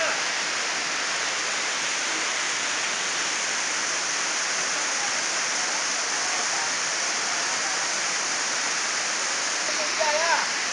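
A jet of rushing water or waterfall on an outing near Bello, Antioquia, Colombia, gives off a loud, steady broadband roar from start to finish, with faint voices briefly audible near the end.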